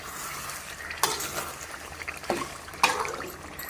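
A spoon stirs green hariyali chicken curry in a pan over gentle sizzling, with a few distinct scraping clinks against the pan at intervals. Close and fairly quiet, with no voices.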